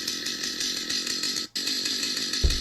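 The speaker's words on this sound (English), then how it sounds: "So, stationary chainsword sound." A loud, steady chainsaw-style idle drone comes from a Warhammer 40k Sisters of Battle cosplay chainsword prop playing its stationary sound effect, briefly dropping out for a moment before resuming, with a soft thump near the end.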